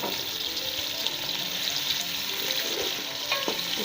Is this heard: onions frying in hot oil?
yes